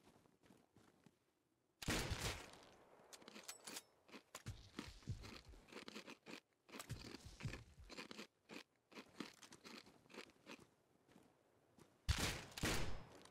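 Bursts of gunfire from the video game Rust crack in irregular volleys, some rapid and clustered, others single sharp shots, with loud close blasts near the start and end and quieter scattered shots between.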